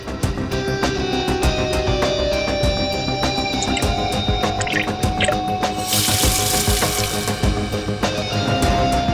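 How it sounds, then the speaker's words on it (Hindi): Water gushes out of the emergency speaker inside a lift, a loud, continuous splashing and dripping stream that stays close and steady throughout. "पानी यहाँ स्पीकर से आया और वो गीला हो गया।"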